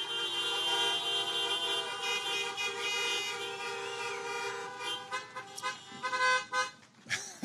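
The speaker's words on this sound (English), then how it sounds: "love the creative honking" Car horns honk repeatedly at a Biden campaign rally in Miami, Florida, a dense stream of overlapping toots and sustained blasts, loud and continuous, growing choppier with short bursts toward the end.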